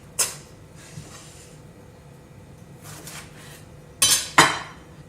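Kimchi ingredients being mixed together in one bowl, with a few scattered clinks and clatters of a utensil against the bowl and softer rustling scrapes between them, close by and without speech.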